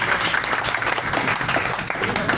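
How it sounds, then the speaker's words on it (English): Audience at a London tech meetup breaking into applause for a prize winner, a dense, even patter of many hands clapping throughout, fairly near and steady with no speech over it. "please a round of applause to Mr. M"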